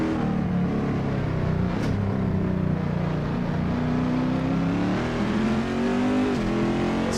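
A Corvette C6R race car circles Silverstone in Assetto Corsa, its engine droning loudly and continuously with rising and falling revs, no talk over it.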